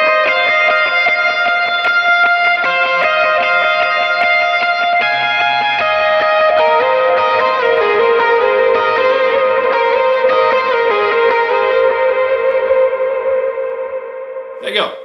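Electric lead guitar with medium drive, reverb and dotted eighth delay plays a sustained melodic line, with repeating echoes trailing the notes into a wash of sound that fades near the end.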